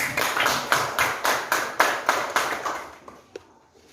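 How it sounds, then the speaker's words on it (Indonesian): Group clapping in a classroom teaching session, a loud rhythmic burst of about ten to twelve in-time claps that gradually tapers off and stops. "tepuk tangan dulu"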